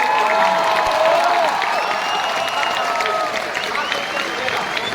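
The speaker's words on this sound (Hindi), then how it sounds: "देखिए आगे के लोग कुछ कम ताली बजा रहे हैं" Audience applause at a Hindi comic poetry gathering, a kavi sammelan at the BITOTSAV college festival, a steady dense wash of clapping and crowd noise with voices mixed in throughout.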